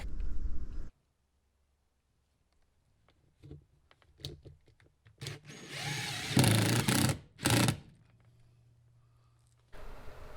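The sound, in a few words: power drill screwing aluminum threshold to van floor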